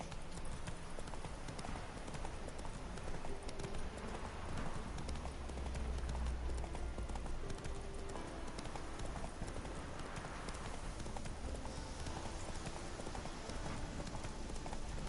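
Steady clip-clop of horse hooves galloping continuously in The Witcher 3: Wild Hunt, with a constant rhythmic pounding over a rushing background.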